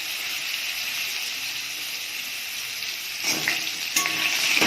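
Papaya and potato pieces sizzle in hot oil tempered with bay leaf and whole cumin, a steady broad frying hiss that swells louder near the end as the vegetables are stirred, with no talking.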